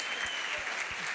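Brief, dense applause from the audience for Byron Keller at a 2023 customer-experience directors' gala, many hands clapping evenly and fairly close for about a second.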